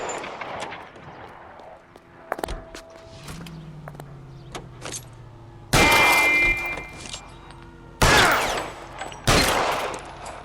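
Gunfire in the LA Noire video game: sharp, loud shot bursts come in separate clusters between quieter stretches of game ambience, mixed with a mechanical whine and thuds, with no speech.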